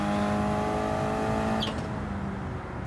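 Race car engine in Gran Turismo 7 on the Eiger Nordwand circuit during a time trial, revving out in second gear: a loud, steady high-pitched engine drone that dips slightly near the end, no talk.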